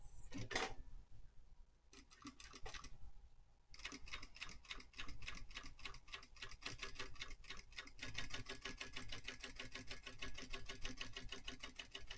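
A sewing machine stitches a clear vinyl stadium bag, a quick even rattle of needle strokes that starts and stops briefly at first, then runs steadily and close up with no talking.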